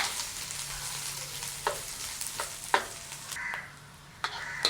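Onions fry in a pan for a mutton curry, giving a soft, close sizzle punctuated by a handful of light spatula scrapes and taps, the hiss dipping briefly before the end.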